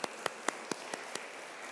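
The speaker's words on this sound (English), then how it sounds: "we'll give him a round of applause" Six slow, evenly spaced claps ring out faintly in a quiet church space during Mass, then stop.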